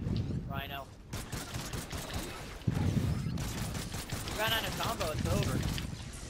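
Gunfire from a weapon in the video game Call of Duty: Ghosts Extinction, Chaos mode, with bursts of shots and game effects mixed under a player talking.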